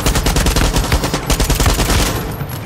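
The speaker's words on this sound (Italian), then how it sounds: "Chi è che spara?" Rapid automatic gunfire in Far Cry 6, loud sustained bursts of shots cracking in quick succession throughout, with no talk over it.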